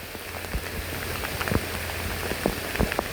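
Heavy rain from Typhoon Kristine pours down amid flooding, a dense continuous hiss with scattered sharp drips and splashes landing close by, no voices.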